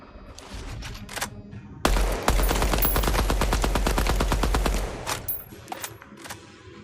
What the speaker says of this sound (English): After the first 6 bullets, it's quite a bit of recoil